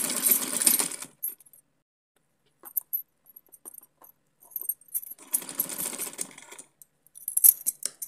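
A sewing machine stitching wide lace onto a fabric strip for a small deity dress, running in bursts with a loud whirring stretch at the start, a quiet pause, then another longer run and a brief final burst.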